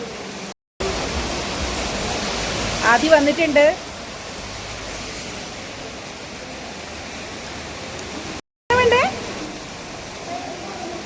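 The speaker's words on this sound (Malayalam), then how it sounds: "നല്ല മഴയാണ്" Steady, dense hiss of heavy rain fills the whole clip, with a couple of brief voices speaking over it.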